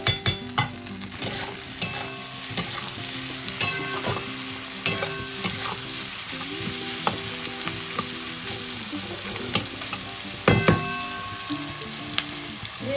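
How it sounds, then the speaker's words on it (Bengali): Chilli chicken fries in a kadai with a steady sizzle, while a utensil repeatedly scrapes and clinks against the metal. The stirring knocks come in irregular bursts over about thirteen seconds, close and fairly loud, and no one speaks. "এটাকে এবার একটু ফ্রাই করব কড়াইতে"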